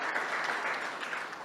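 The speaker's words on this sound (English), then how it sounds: "Give a round of applause for all of our speakers tonight" An audience at an evening meetup claps for the speakers, a steady, dense round of applause filling the whole moment with no voices over it.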